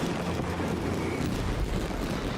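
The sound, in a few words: fireworks in Genshin Impact cutscene, video game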